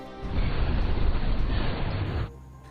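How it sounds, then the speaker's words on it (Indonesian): A dense, roaring blast rumbles for about two seconds, a film car explosion in a school parking lot heard loud and close, then cuts off abruptly into quiet. "mobil tersebut pun meledak di parkiran sekolah."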